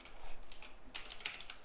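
Soft, quick keystrokes tap on a computer keyboard in a few short bursts, close and quiet with brief pauses between them.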